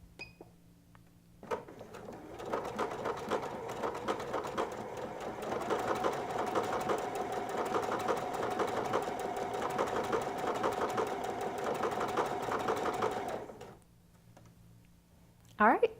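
EverSewn Sparrow 30 sewing machine stitching a decorative pattern in one continuous run of rapid mechanical clatter lasting about twelve seconds, close and clear, with quiet handling noises before and after.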